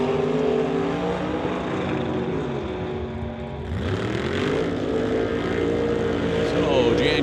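Drag race cars, a Chevy Nova against a blue and white 1963 Corvette at an NHRA Summit ET Series event, roar loudly and continuously, their engine tones sweeping and shifting as they launch, with commentary running over the engine noise.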